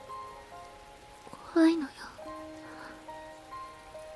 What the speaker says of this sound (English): From the outside of the window, I can hear the faint sound of water cutting through the air.